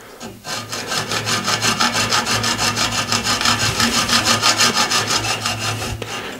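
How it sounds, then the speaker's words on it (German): A hand saw cuts through a circuit board, guided along a sheet-metal edge, with a steady, close, rhythmic rasping of quick back-and-forth strokes that continues for about six seconds before stopping. "Nun lasse ich diese Blechkante das Sägeblatt führen,"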